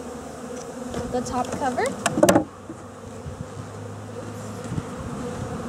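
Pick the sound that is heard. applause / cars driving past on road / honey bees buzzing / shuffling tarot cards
honey bees buzzing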